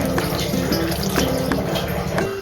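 Watery liquid pours into a cooking pan while making chilli chicken, a continuous close trickle and splash with a few drips, loud and steady with no talk.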